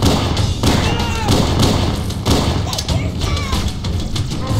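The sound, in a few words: frag grenade explosion in video game Halo Combat Evolved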